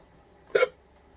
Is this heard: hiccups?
yes